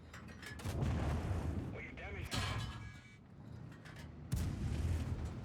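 A tank cannon in a tank video game fires gold premium ammunition, sending loud booming blasts, one near the start and another heavier one toward the end, over rumbling engine noise with a person talking.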